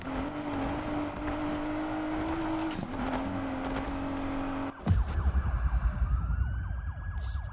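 Police sirens wail during a car pursuit in Need for Speed Payback, a steady siren tone over engine noise that gives way to a rising, sweeping siren and a sharp burst partway through.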